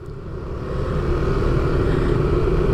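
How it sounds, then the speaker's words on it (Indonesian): Yamaha NMAX Turbo scooter engine braking on the road, a steady close engine rumble that swells slightly and then holds, with no voices. "Kita coba lagi engine brake-nya."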